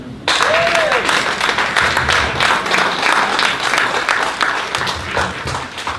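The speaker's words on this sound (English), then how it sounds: "If you are a veteran," A room of veterans at a political club meeting applauds, producing dense, sustained clapping that fills the space at close range, with a voice briefly audible at the start.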